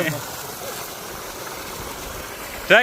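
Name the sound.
borewell motor pumping water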